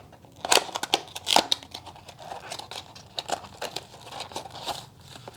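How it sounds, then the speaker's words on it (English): Box packaging for a TP-Link UE200 USB Fast Ethernet adapter being cut open from the bottom, with a series of close, sharp snips and crinkling cardboard rustles, irregular and alone without talk. "So just going to cut it from the bottom."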